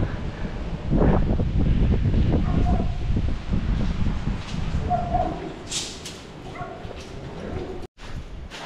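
Gusty wind blows steadily across an outdoor spot in Lubao, a loud rushing roar that swells and eases over several seconds, with a brief dropout near the end and no talking.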